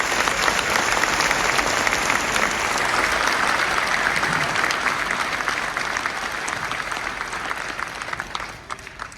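Audience applause at the Belfort mayor's New Year address, greeting local artists: steady dense clapping from a large crowd that holds for about eight seconds, then thins and fades at the end.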